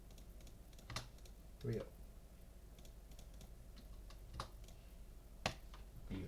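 A computer keyboard is typed on, with a few sharp, close key taps spaced irregularly and a backspace pressed repeatedly. The taps are quiet, and a voice speaks briefly among them.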